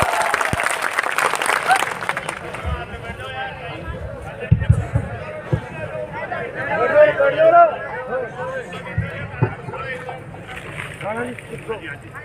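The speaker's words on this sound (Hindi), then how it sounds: "एक बार ताली बजाकर" Audience at a large Congress election rally in Dudu district, Rajasthan, claps in welcome after an announcer on stage asks them to; loud applause swells early, then fades under the amplified voice and wind noise.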